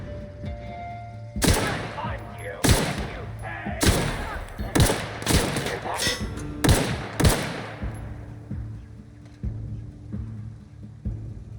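Gunfire in The Outer Worlds: about eight loud, close single shots spaced roughly a second apart, each a sharp crack with a short tail, then quieter background after the volley.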